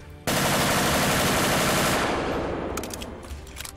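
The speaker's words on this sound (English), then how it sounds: "I have literally no clue where those shots are coming from." Gunfire in the video game Ancient Warfare 3, during an assault on a WW2 Japanese army death camp: a loud, dense, sustained burst of automatic fire that slowly fades, with a few sharper scattered shots near the end.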